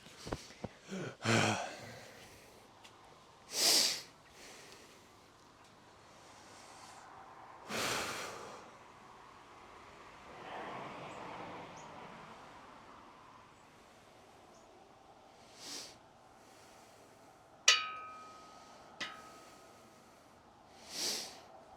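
Heavy breathing after a set of squats during a lower-body workout, with sharp exhales and snorting breaths at intervals, close and fairly loud against a quiet room.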